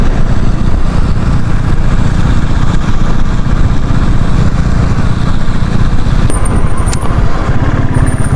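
A motorcycle cruises along the highway past the Muzaffarnagar bypass on a Delhi to Chakrata ride. Its engine drones steadily and loudly with constant wind rush, and two short high electronic beeps sound near the end.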